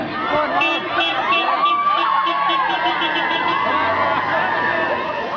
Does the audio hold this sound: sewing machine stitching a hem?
no